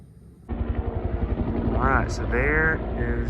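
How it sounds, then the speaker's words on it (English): A fire helicopter passes overhead on its way to collect water for firefighting, a steady low engine and rotor drone that starts abruptly and holds, with a person talking over it. "there is a fire helicopter going to get water, or taking water somewhere to drop on a fire"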